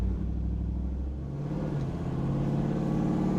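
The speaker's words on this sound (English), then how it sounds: "every time I'm stopped and I hear that nice quiet little growl, Richard did such a great job with this" The exhaust of a 1972 K5 Blazer, a deep, steady low growl while idling at a stop that swells slightly as the engine is revved, heard up close with no voices.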